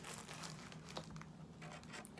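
Plastic wrapper around a Ducky One 2 Mini SF 65% gaming keyboard crinkling in short, quiet rustles close by.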